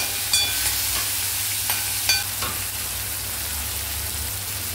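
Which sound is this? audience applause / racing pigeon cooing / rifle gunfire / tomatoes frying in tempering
tomatoes frying in tempering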